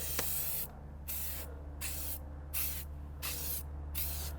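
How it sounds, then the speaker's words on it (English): Truck bed liner coating is sprayed in short bursts, five or six steady hissing passes with brief gaps between them, close and fairly loud. "You notice when I'm spraying this, I'm stopping at the back end of each time because you don't need to rush it."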